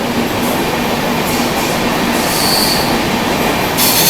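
The Deccan Queen Express rushes through a tunnel on a ghat section, a loud, dense, continuous roar of wheels and rails with a thin wheel squeal running through it, heard from inside the train.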